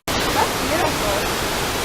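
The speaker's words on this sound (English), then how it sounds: "Look at the waterfall." A waterfall in Chiapas roars as a steady, broad wash of rushing water, loud and continuous from start to end without any talking.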